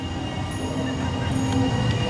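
A mine train roller coaster at Cedar Point rumbles steadily along the track with a constant low roar and faint metallic squeals, close by and continuous throughout.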